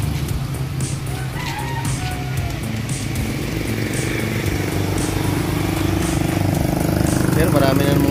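Motorcycles rumble past on a slippery wet road, engines droning continuously and growing louder toward the end, with a person talking over the traffic noise throughout.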